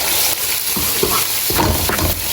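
Onions with ginger garlic paste fry in a pan, giving a loud continuous sizzle while a spoon stirs and scrapes them in a few quick strokes, close up, with no voices.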